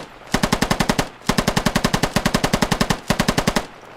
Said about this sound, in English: habang nagre-reload ako, continue na pa rin yung fire ko